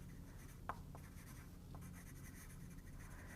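A pen or pencil sketches a lettering layout on paper, making faint, quiet scratchy strokes with a few brief sharper ticks over a steady low background hum.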